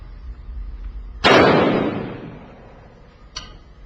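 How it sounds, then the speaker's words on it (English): One sharp, loud shotgun blast inside an indoor firing range, with a short reverberant decay followed by a faint metallic click. "This shotgun was loaded and discharged at an indoor firing range under strictly controlled conditions."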